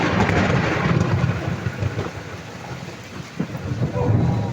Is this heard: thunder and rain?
yes